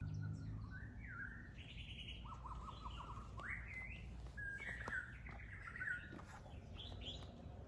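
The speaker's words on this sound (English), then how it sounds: "That bird was amazing. Did you hear that?" A songbird sings outdoors, a varied series of clear chirping and warbling phrases repeating at close range over quiet background noise, with no voices.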